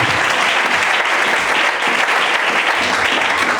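A church congregation applauds Jesus with dense, sustained clapping that fills the whole stretch at a steady, loud level, with no pauses or spoken words.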